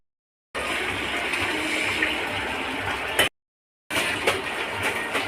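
Water poured into tengra fish curry simmering in a pan, a loud rushing hiss and sizzle in two bursts, the first about three seconds and the second resuming after a short silence.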